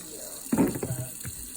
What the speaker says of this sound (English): Or pour this down the drain.